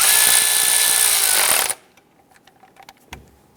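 A power tool runs steadily and loudly for under two seconds while snugging down the valve cover ground bolts on a 2008-2013 Nissan Rogue, then cuts off, leaving faint clicks and small handling noises.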